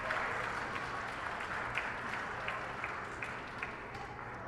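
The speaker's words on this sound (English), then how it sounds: "please applaud Doktung" An audience at an AI event applauds an award-winning project, a fairly quiet, even wash of clapping that holds steady from start to end without speech.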